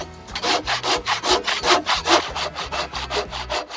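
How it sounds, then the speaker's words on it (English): Handsaw cutting through a wet log: a steady, quick back-and-forth rasp of rhythmic strokes, close and moderately loud with no voices. "we are going to cut it with a handsaw"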